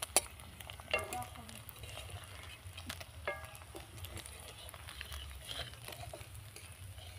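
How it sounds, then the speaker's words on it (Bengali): Ruli fish frying in hot oil, a steady crackling sizzle with occasional stirring scrapes and clinks, fairly quiet and close, no talking. "এইগুলো এখন আমি তুলে নেব, নিয়ে আর একবার এইতে ভাজবো"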